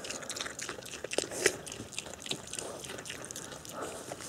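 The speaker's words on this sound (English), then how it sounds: "You can hear her munching on it." A pig chews butternut squash from the garden, producing soft, irregular wet crunches and bites, close but faint, with no voices over them.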